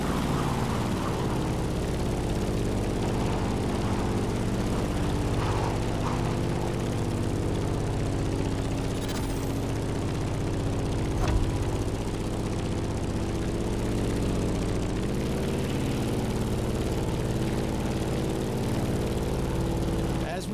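Grumman F8F Bearcat propeller fighter droning steadily overhead, a loud continuous engine hum with a gentle shift in pitch midway; voices may be faint underneath.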